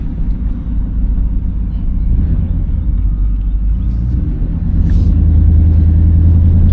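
A 1995 Chevrolet Caprice engine rumbles steadily from inside the car while driving, a loud low drone that deepens slightly toward the end, with no talk.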